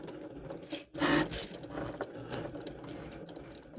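A LOKLiK cutting machine starts a cut, its small motor buzzing and whirring close by with a loud burst at the start, then a steady mechanical drone with faint ticking.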